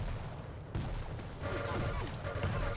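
Quake match with rocket explosions, dense rumbling blasts and weapon fire layered continuously, loud and busy, with a voice partly beneath the action.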